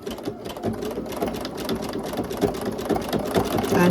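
Sewing machine stitching an appliqué quilt border, humming and clattering continuously at close range with a steady rapid rhythm and no pauses.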